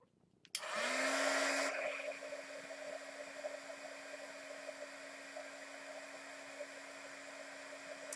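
An electric heat tool warming vellum for card making switches on with a click and settles into a steady, close whirring blow with a constant whine that runs unbroken to the end.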